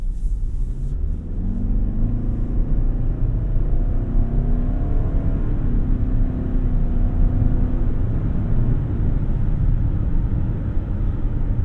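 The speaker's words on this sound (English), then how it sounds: "When you push this vehicle, the engine does get kind of nasally, but I mean, it's okay." A 2023 Toyota Highlander Hybrid XLE AWD accelerating, heard from inside the cabin: the engine drones and climbs steadily in pitch, slightly nasal, over a constant road rumble, loud and continuous with no talk.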